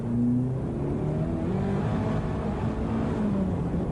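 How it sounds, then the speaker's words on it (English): A 1989 Ferrari F40 spinning its wheels on a slippery corner, the engine a loud, steady close drone with wavering pitch as revs rise and fall, no voices. "Another little bit of wheel spin."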